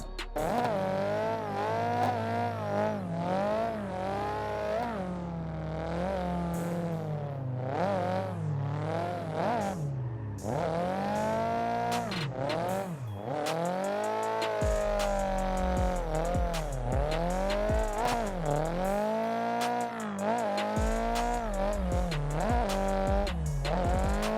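A drifting car in Assetto Corsa wails with engine revs that rise and fall, tire squeal laid over them, loud and continuous through long slides, shifts and bursts of acceleration.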